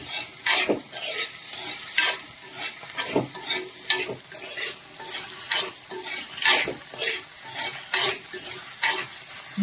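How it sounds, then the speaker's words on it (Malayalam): Green chilies with a little salt sauté in a pan, stirred in an even rhythm of scraping strokes over a constant close sizzle, no voices. "നന്നായിട്ട് ഈ പച്ചമുളക് വഴക്കണം"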